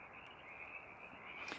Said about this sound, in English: And it's just loaded with these frogs.